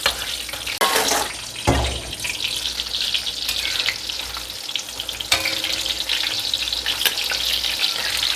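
Stuffed tofu, tahu isi, fries in hot oil with a loud, continuous crackling sizzle, interrupted by a few scraping stirs and bursts of spatter.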